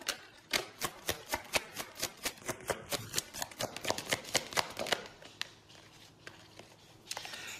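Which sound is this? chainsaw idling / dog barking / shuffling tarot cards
shuffling tarot cards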